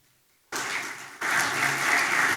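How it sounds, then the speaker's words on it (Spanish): A conference audience breaks into strong applause to welcome the speaker, dense steady clapping that starts abruptly, briefly dips, then swells louder before cutting off. "pido un fuerte aplauso para recibir a don Fernando"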